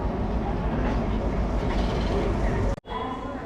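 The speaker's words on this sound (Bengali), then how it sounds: "এই যে ট্রেন ঢুকছে এখন প্ল্যাটফর্ম নাম্বার সেভেনে" A passenger train pulls in at platform seven of a railway station, a continuous heavy rumble close by with people talking over it and a brief dip near the end.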